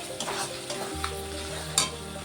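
Melted chicken fat and ground spices fry in a pan, a close sizzle with scraping stir strokes and a brief clack from the spoon.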